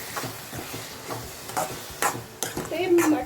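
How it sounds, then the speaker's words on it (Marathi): Finely chopped tomatoes sizzle in a hot pan while a spoon stirs them. Scraping strokes come in irregular bursts over a continuous close frying hiss, with no speech. "आता थोडे टोमॅटो मी घालून घेते बारीक एकदम कट केले आता मिक्स करून"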